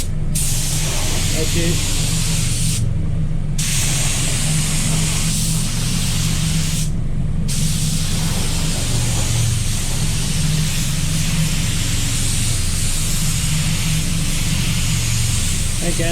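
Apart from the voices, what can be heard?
HVLP spray gun spraying wet-on-wet primer, Walcom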